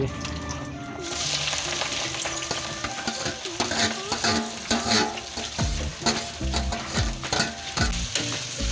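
Onion frying in hot oil with cinnamon, bay leaf and green chilli for an Odia chicken curry, a loud dense sizzle and crackle throughout with stirring knocks near the end.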